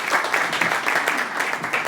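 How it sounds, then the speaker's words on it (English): An audience at an evening talk breaks into a steady round of applause, dense continuous clapping filling the room throughout. "Can we give a round of applause, please?"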